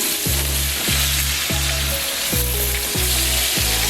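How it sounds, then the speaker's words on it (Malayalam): Sliced onions hit a hot pan for a fish pollichathu gravy and sizzle loudly and steadily, with a repeated pulsing clatter about every half second, likely from stirring, and no talk. "അപ്പോൾ ആദ്യം തന്നെ നമ്മൾ സവാള ഇടുകയാണ്."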